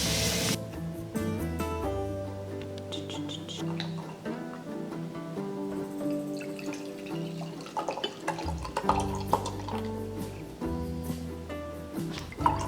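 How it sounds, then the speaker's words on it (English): Tap water runs steadily into a kitchen sink for rinsing while cooking, a continuous splashing stream with drips, heard alone over a music-like tonal background. "now keep the water running because it needs to rinse thoroughly"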